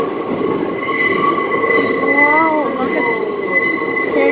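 A subway train runs through City Hall station, its steady, loud rumble joined midway by a rising and falling metallic wheel squeal.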